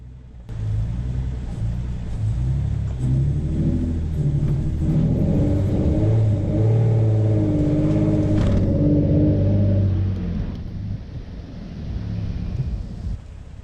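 Two-wheel-drive pickup truck straining on an off-road course, a low rumbling engine that builds into a sustained heavy rev, then drops away near the end.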